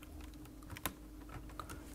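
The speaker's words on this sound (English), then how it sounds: "we push the keyboard to the left" The keyboard of a Sony Vaio V505CP laptop is pushed aside during disassembly, making faint, scattered plastic clicks and taps with one sharper knock near the middle, close and quiet.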